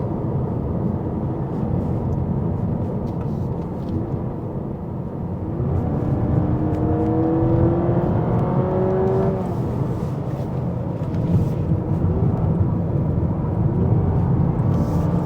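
A Honda Civic RS e-HEV hybrid climbs the Genting hill road, heard from inside as a steady loud engine drone and road rumble with a rising engine whine as it accelerates midway.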